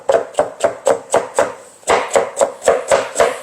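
A kitchen knife chops a vegetable into thick, uneven strips on a cutting board, giving about a dozen crisp, evenly spaced thuds with a brief pause midway, close and clear.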